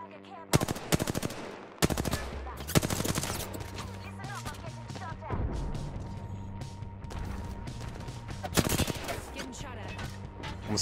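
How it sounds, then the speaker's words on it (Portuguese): Automatic weapon fire in an Apex Legends 3v3 match: several loud, close bursts of rapid shots separated by short pauses, with sharp single cracks mixed in over a busy game background. "Tiro tá comendo aqui"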